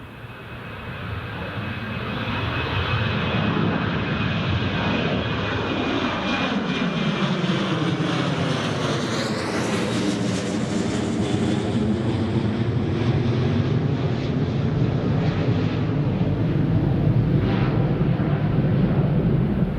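A British Airways airliner in old livery takes off from Newcastle Airport and climbs out, a loud continuous jet roar building quickly, then sweeping and shifting in pitch as it passes overhead and holds steady.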